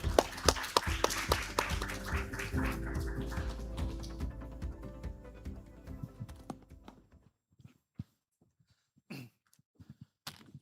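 Audience at an economics conference applauding a speaker, many hands clapping in a dense burst that thins and fades out, followed by a few scattered isolated claps and faint handling noises near the end.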